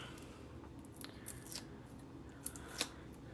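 Scissors cutting a piece of craft material for a cake topper, a few quiet snips spaced irregularly, the last two sharper and more distinct, close with no talking.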